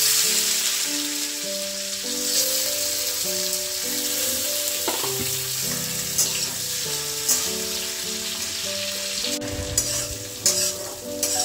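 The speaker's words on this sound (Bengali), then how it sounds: "আলুগুলো কিন্তু আমি হালকা করে ভেজে নিয়েছি।" Potatoes fry in a pan with a continuous close sizzle, joined by occasional stirring scrapes and clatter, with soft background music playing and no talk.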